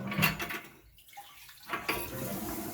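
Water from a bathroom shower hisses and splashes, breaks off briefly, then runs again, close and moderately loud. There is no talking.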